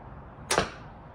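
An arrow shot from a bow, loosed behind the head in a traditional shooting style, gives a single brief whoosh or release snap near the middle, loud and close over a quiet background.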